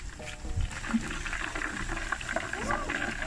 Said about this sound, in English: we're gonna let this fry up